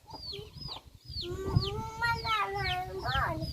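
A chicken clucks repeatedly in short rising and falling calls close by, with faint voices and background noise underneath.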